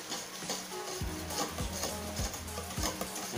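Purple ube puto batter is stirred in a bowl to dissolve baking powder, giving a soft, wet, even swishing with regular scraping strokes about every half second, close and alone.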